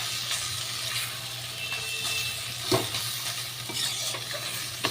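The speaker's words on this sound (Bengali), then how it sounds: "খুন্তি দিয়ে একটু ঘ্যাটা ঘ্যাটা করে দিলাম" A spatula scrapes and stirs cooked spinach in a pan, with repeated soft scraping strokes over a low, steady sizzle, close and moderately loud.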